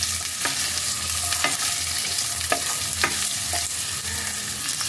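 Diced potatoes frying in oil hiss in a constant sizzle while a utensil stirs them, giving several distinct scraping knocks against the pan at uneven intervals, close up with no voices.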